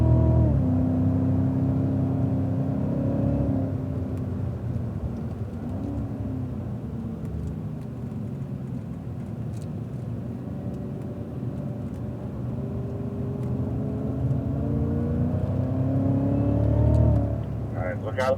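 Cadillac CTS-V on a race track, its engine droning and rising through acceleration from inside the cabin while someone talks over it, swelling louder near the end.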